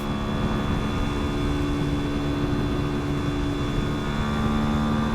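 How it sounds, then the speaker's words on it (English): KTM 350 EXC-F dirt bike engine held at high revs while cruising in sixth gear at about 80 mph, a steady loud drone with wind roar throughout. "I feel like I'm revving the shit out of this motorcycle and we're only going 80"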